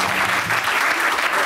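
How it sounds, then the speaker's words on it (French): Brief burst of loud, dense TV studio audience applause on a French talk show hosted by Thierry Ardisson, clapping steady and close throughout. "On applaudit."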